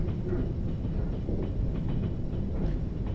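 A train in Trans-Siberian Railway Simulator rolls over a railway switch, giving a steady low rumble with faint rhythmic wheel clicks throughout and no talk.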